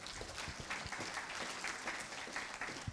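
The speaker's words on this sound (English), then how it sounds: "Give him a big round of applause for Findest." Steady applause from a crowd, dense clapping filling the whole stretch at an even, fairly loud level.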